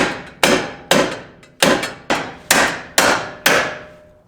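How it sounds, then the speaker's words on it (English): A ball-peen hammer strikes a bent coilover from a Mazda Miata, with seven loud, sharp metallic blows spaced about half a second apart, each one ringing briefly before the next. "So, I'm gonna have to use the good old hammer ball."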